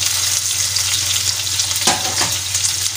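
Onion, tomato, garlic and ginger fry in a pan for a Mangalorean prawn masala, giving a steady close sizzle with two brief scraping stirs near the end, and no talking.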